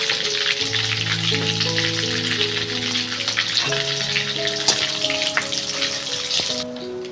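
Bay leaves and white cumin seeds tempering in hot oil for a jackfruit and prawn curry, a steady bright sizzle that runs unbroken under sustained background music tones, with no voices.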